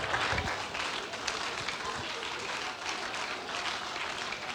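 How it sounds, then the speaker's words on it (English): Congregation clapping hands during a prayer service, dense continuous clapping from many people with voices mixed in throughout. "Clap your hand and make it your prayer."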